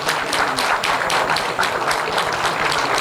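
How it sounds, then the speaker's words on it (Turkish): Sustained, dense clapping from an audience at a municipal group opening ceremony in Fındıklı, a continuous close wash of hands without voices. "alkışlar bu güzel ruhlu hanımefendi için."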